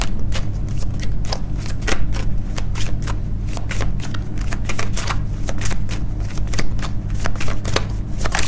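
An angel oracle card deck being shuffled close up, a long run of crisp riffling snaps and flutters at an even, brisk rhythm, loud, with no talk.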